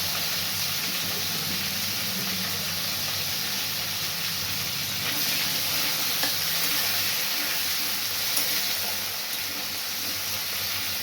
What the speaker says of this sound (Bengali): পেঁয়াজ কুচনো দেওয়ার পর আমি এই আলুগুলো ভাজবো।